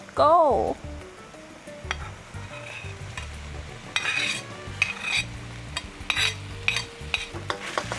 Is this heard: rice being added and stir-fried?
yes